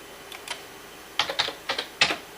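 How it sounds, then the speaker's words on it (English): A security code being typed on a computer keyboard, a handful of sharp, distinct key clicks at an uneven pace, close up in a quiet room. "You put in a security code."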